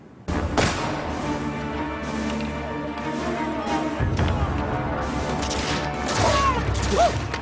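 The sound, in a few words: musket fire barrage sound effect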